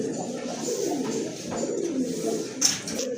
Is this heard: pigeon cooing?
yes